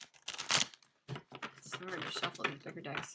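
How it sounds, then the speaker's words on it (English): Large tarot decks being shuffled by hand, close riffling and card-slapping bursts in quick uneven succession, quiet and intimate. "Sorry to shuffle these bigger decks."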